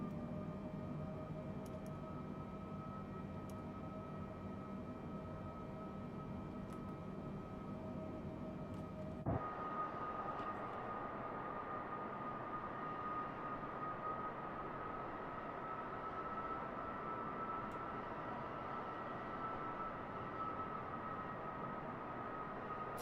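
Engines of a Boeing 747 Dreamlifter drone steadily in Microsoft Flight Simulator 2024 on a PS5 Pro, a constant hum with a droning tone that shifts abruptly partway through into a broader, rougher roar, with no talk.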